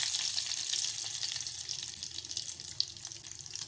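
Cumin, asafoetida and curry leaves sizzle in hot oil as a tempering for a Malvani-style horse gram kadhan, a faint, continuous crackling hiss with a small pop near the end.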